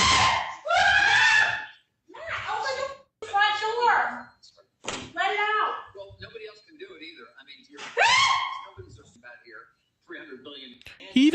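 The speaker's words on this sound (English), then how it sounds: "Just listen to this scream" A woman's loud, repeated screams from a played clip of a couple reacting to a fly in a room, coming in several bursts over about eleven seconds with short gaps between them.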